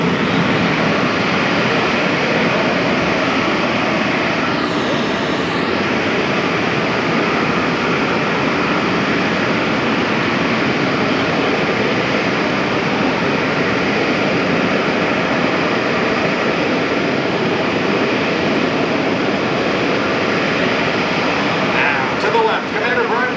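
Blue Angels jets taking off in formation at an air show, a loud, steady roaring jet wash that fills the whole stretch, with a distant voice briefly audible over it.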